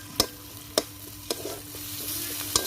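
Onion, ginger and garlic paste fry in oil in a pan, a soft sizzle broken by four sharp scraping stirs of a spatula against the metal, spaced unevenly, close and fairly quiet.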